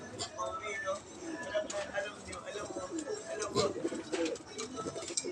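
A racing pigeon returns to the loft after a 150 km race, and soft cooing and bird calls come through nearby while a person talks over them.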